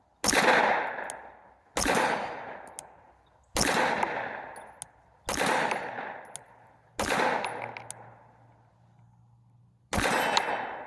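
Glock pistol fitted with an SCT replacement frame firing at steel targets on an outdoor range: six sharp, well-spaced shots, each ringing out with a metallic clang and decaying tail, no talking.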